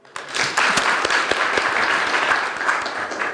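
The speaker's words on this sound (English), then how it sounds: "shall we give her another hand of applause?" A workshop audience breaks into dense, sustained applause after a presentation, many hands clapping together loudly and evenly from start to finish.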